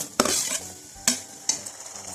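Tomato fries in oil with browned onion and ginger-garlic paste in a pan, with a soft steady sizzle broken by three sharp scraping stirs of a spoon against the pan.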